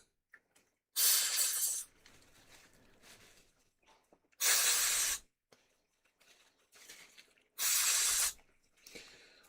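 An aerosol cleaner sprayed without its nozzle during repair of a Roberts R727 radio, heard as three loud, close hissing bursts of about a second each, separated by quiet pauses.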